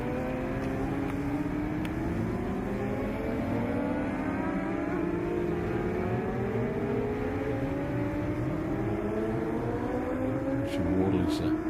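A race car lapping the Darley Moor circuit, its engine note climbing and falling through repeated upshifts at a moderate distance, with a commentator talking over it.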